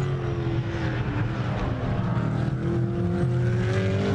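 GT1 race cars, a BMW among them, roar past on a circuit in Slovakia with a continuous loud engine drone that rises and falls slightly, heard alone without any talk.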